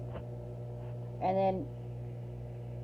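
Amazon microwave oven running with a steady low electrical hum, a brief voice speaking over it partway through.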